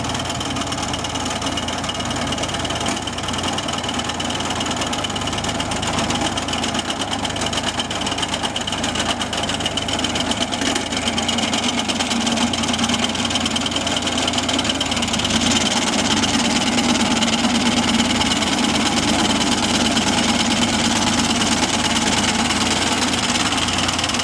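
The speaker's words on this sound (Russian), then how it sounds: "покос травы." A tractor engine runs steadily while mowing grass in Italy, a continuous close, loud mechanical drone with a rattling vibration that holds without a break from start to finish, with no talking.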